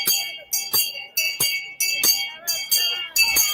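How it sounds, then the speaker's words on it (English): A handbell rings loudly and close at a nomination day rally, struck in a steady series of about ten sharp, ringing strokes with brief decays between them. "Albaistang, ring the bell. Let's hear the bell"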